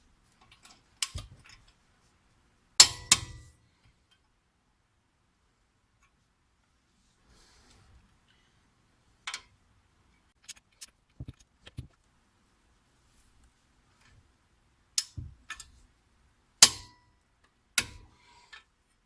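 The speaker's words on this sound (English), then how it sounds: "Now you want to go ahead and tighten up these two caliper bracket bolts." Brake caliper bracket bolts on a BMW E60 sedan are tightened with a wrench during a front rotor and pad job, giving sparse, faint metallic clicks and ratchet bursts separated by long stretches of near silence.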